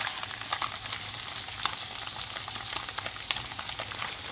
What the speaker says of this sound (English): And now the zucchini is starting to cook and everything.